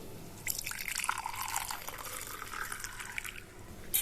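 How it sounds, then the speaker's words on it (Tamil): Boiled herbal water pours and trickles steadily through a strainer, a soft continuous splashing with small drips, close by and quiet. "இதை நல்லா வடிகட்டிக்கலாம்"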